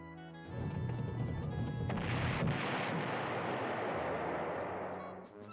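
Artillery fire in the retro strategy game Panzer General, a loud rumbling barrage of crashing impacts that swells quickly, holds for several seconds, then tails off, with no talking.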